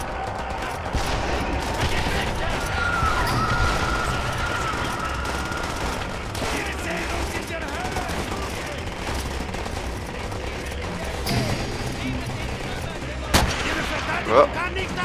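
Gunfire in the World War II shooter game Call of Duty: World at War, with dense, continuous shooting and scattered louder shots layered over battle noise throughout.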